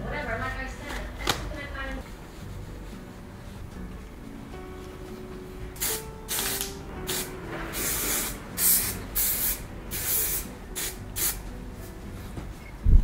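Hairspray is sprayed over a styled hairdo, a run of short hissing bursts from about six seconds onward, with quieter room sound and some talk earlier.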